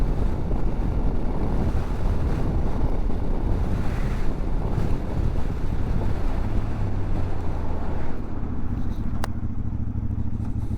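Strong wind buffeting a microphone on a motorcycle, a loud continuous rumbling roar with gusty fluctuations throughout and no talk.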